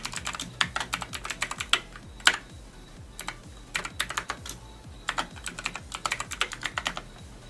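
Fingers type an email and password on a computer keyboard in quick, irregular bursts of close clicking keys with brief pauses, no voices present.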